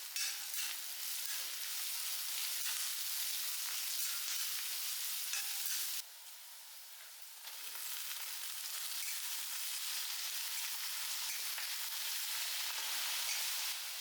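Onions sauté in hot coconut oil in a pan, giving a loud, steady hiss of frying that dips briefly and then returns at full strength. No voices are heard.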